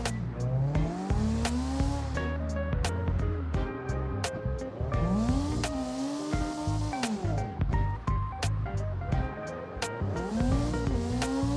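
Tires squeal continuously as a car drifts in the CarX Drift Racing video game, the engine revving and pitch sweeping up and down through repeated slides, with sharp clicks scattered throughout.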